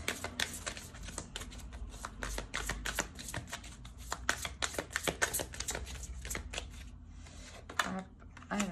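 Tarot cards being shuffled and drawn, a dense run of quick riffling card snaps and flicks, fairly close, continuing steadily for several seconds with brief pauses near the end.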